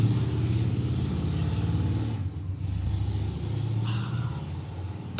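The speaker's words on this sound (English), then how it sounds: "I'll let the motorcycle pass." A motorcycle rumbles past on a road nearby, its steady mid-pitched engine drone holding loud and even before easing slightly as it goes by.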